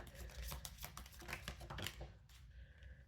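Tarot cards are being shuffled close up in quick, riffling bursts of papery flicks and slaps, faint and continuous, with occasional soft taps as the deck is handled.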